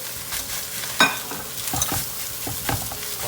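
Spatula stirring and scraping seafood fried rice with shrimp, pork and padaek in a hot sizzling pan, with a steady fry hiss broken by a few sharper scraping strokes, close and moderately loud, no talking.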